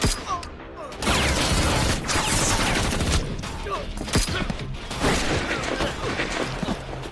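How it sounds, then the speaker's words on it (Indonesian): Sustained gunfire exchange in an action film set at a dockside among shipping containers, with dense overlapping shots, bursts and crashing impacts running loud and continuous throughout. "Saat aksi tembak-menembak tengah berlangsung"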